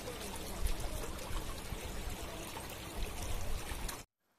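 Hot spring water at Fort Munro flows steadily in a close, broadband rush and trickle, with no voices, before cutting off abruptly.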